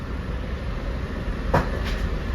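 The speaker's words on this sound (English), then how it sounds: "it's great to be riding train 1060 with M3s as well as train 1946" Low rumbling ride aboard an LIRR M3 commuter train on the Long Island Rail Road near Hicksville, a steady rolling drone with a couple of sharp clicks from the car near the end.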